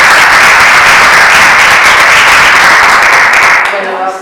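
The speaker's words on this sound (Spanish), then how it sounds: "particularmente hoy la recibimos a Leticia con un fuerte aplauso" A lecture audience gives a loud, strong, continuous round of applause welcoming the speaker at an academic talk, which stops abruptly near the end.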